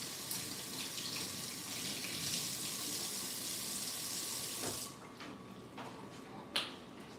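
A kitchen tap runs steadily to wet something for a few seconds, then shuts off, leaving a couple of faint clicks and handling taps.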